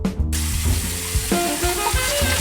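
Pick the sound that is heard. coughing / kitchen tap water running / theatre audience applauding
kitchen tap water running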